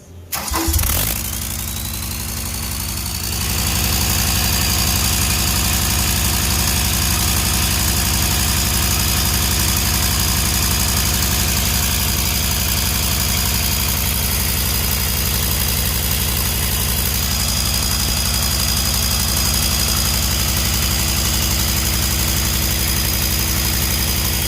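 A car engine fitted with new fuel injectors cranks and fires, then settles into a steady, loud idle that holds evenly for over twenty seconds.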